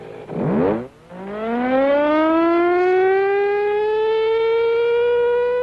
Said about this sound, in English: the sirens that go off on a test now and then